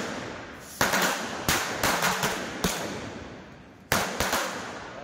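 Several sharp firecracker bangs during Diwali celebrations, at irregular intervals, loud and close, each followed by a crackling decay.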